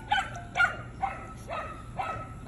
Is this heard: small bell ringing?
no